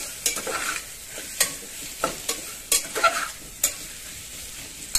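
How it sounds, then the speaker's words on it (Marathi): Spinach pulao ingredients with goda masala being sautéed in a pan, with a soft sizzle broken by repeated sharp scrapes of a spoon stirring, roughly one every half second to second. "सगळं व्यवस्थित परतून घ्यायचं आहे"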